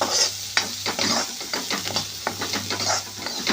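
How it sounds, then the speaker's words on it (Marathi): Onion and turmeric sautéing in a pan for rajma: a steady close sizzle broken by repeated scraping strokes of a spoon stirring, with a low hum underneath. "आता हे छान आपण परतून घेऊया."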